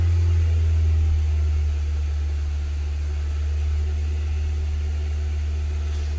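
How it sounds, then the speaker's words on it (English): A car engine held at a steady raised idle of around 2000 RPM, a constant low droning hum that stays even and continuous throughout with no talking. "now it wants me to rev it up to about 2000 RPM and hold it"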